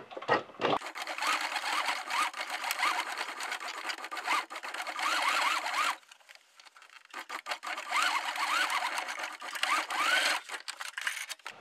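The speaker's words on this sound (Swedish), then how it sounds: "så kommer jag att först sy över en gång, sen kommer jag backa över hela den här och sen sy fram igen" A sewing machine stitching and backstitching a seam on a toiletry bag: a fast, whirring mechanical run, a brief pause, then stitching resumes, close and loud with no talking.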